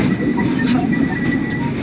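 A train in the video game Assassin's Creed Syndicate rolls along with a continuous, loud rumbling clatter of wheels on track, heard alone without speech.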